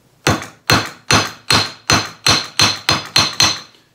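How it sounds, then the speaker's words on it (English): Metal ferrule being hammered shut on a coyote snare cable loop, nine sharp, evenly spaced ringing strikes in a quick steady rhythm, close and loud with nothing else heard. "bring it around, pull it through. I like to leave about a 1 inch, okay, loop on the end and then hammer it shut."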